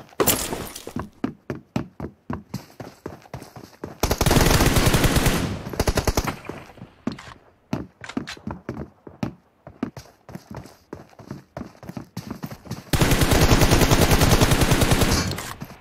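Gunfire in the Battlegrounds video game: rapid strings of close, loud shots cracking out in quick bursts, with two long sustained automatic volleys, and no talking.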